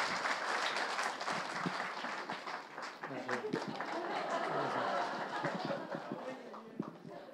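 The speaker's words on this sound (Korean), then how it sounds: "박수로 환영해 주시기 바랍니다." Audience applause welcoming a pastor to the stage at a church farewell ceremony, a steady wash of clapping that holds through the whole stretch, with voices talking underneath.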